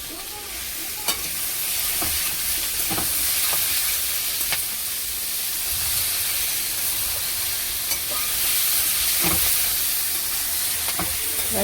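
Chopped tomato hits hot spiced oil and sizzles steadily as a spoon scrapes and knocks against the pan at irregular intervals, close by and with no voices.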